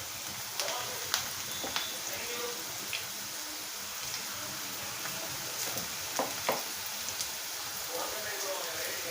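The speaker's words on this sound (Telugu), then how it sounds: "ఇప్పుడు ఆయిల్ వేడయ్యాక, ఆయిల్ బాగా వేడైపోయిందండి, ఇప్పుడు వేసేసుకోవడమే" Amaranth leaf pakodi batter fries in hot oil with a steady crackling sizzle and small pops throughout, while a person talks over it.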